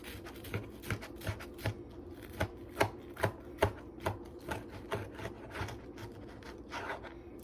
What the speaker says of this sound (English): next we're going to cut this in half